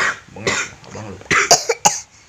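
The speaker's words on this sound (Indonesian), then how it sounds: "Sekarang penyakit batuk pilek, guys." Several sharp, loud coughs burst out in quick succession close to the mic, with a mix of low voiced sounds, like someone suffering a cold and runny nose.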